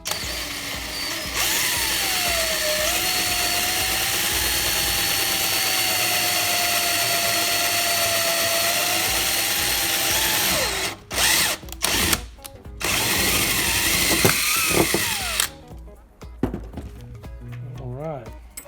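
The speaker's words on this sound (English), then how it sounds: "I'm going to drill a pilot hole first" A power drill bores a pilot hole in a homemade fire hydrant build, its motor whine holding steady for several seconds before breaking into short bursts and stops, with a person speaking near the end.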